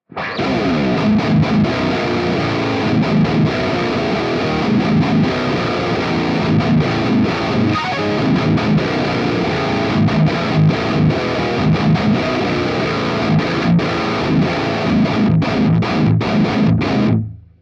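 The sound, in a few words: high-gain guitar amp model, heavy distortion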